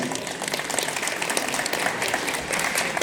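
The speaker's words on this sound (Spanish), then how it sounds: "Que vengan los aplausos, a ver, fuertes familiares." Wedding guests clapping for the godmother at a reception, a dense, steady burst of applause from a close crowd with no pause across the moment.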